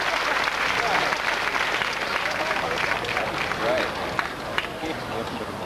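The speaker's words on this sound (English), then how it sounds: "the crowd are with Fred" A crowd at a 1992 Bass Masters match cheers and applauds steadily, a dense, loud wash of clapping and voices lasting throughout, with a commentator's voice faintly under it.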